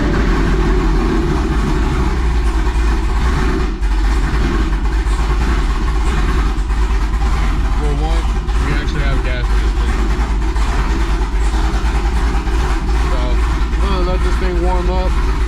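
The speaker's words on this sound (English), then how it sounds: "let's go ahead and get a cold start, because it might be a month before I hear another one" A cammed Chevrolet Camaro engine idles loud and steady through a cold start, its rough, lopey rumble sustained and close throughout, with faint talk underneath.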